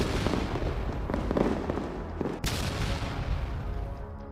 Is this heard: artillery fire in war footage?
yes